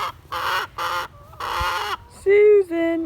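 Hens in a coop cluck and squawk in agitated bursts close by, with a few drawn-out calls at the end.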